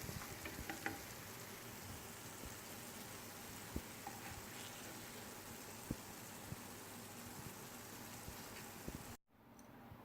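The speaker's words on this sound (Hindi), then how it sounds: "हमारी टिक्की अच्छे से फ्राई हो गई है।" Aloo tikki frying in a pan gives a steady, close sizzle with scattered small pops and crackles, fairly quiet throughout and cutting off abruptly near the end.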